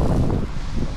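Wind blows across a microphone outdoors on a cold, rainy night near a Carrefour store in Taiwan, giving a loud, low rumbling buffet that gusts unevenly through the second.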